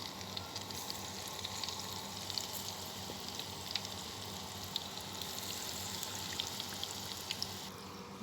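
Bakula dough frying in hot oil, a steady, fairly quiet sizzle with scattered tiny pops and crackles running evenly throughout with no pauses.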